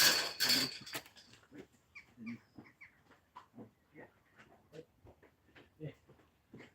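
Several dogs pass close by on a morning walk outdoors, with a loud burst of noise at the start followed by scattered yips, whimpers and bird-like chirps at a moderate level.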